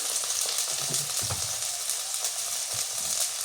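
Onion paste and loitta fish sautéing in a pan, a steady close sizzle running the whole time, with a few soft stirring scrapes and no talking.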